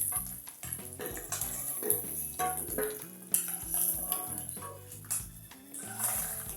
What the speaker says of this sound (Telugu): ఆయిల్ హీట్ అయిన తర్వాత ఇలా గుడ్లు వేసుకుంటారండి.